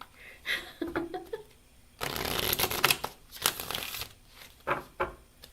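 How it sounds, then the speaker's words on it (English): Tarot cards being shuffled during a reading, a close, crisp riffling burst lasting a couple of seconds followed by shorter flutters of card noise, with quieter handling sounds around it. "Let me shuffle like this."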